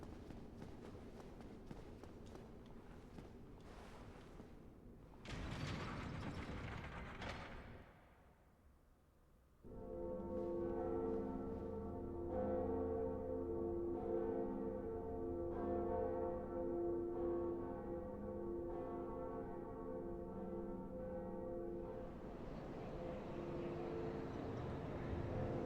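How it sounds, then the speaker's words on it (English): The second bell tolling in Dark Souls, a sustained metallic ringing with strong, steady resonant overtones that swells after a short quiet gap and keeps sounding for over fifteen seconds. "Time to ring the second bell"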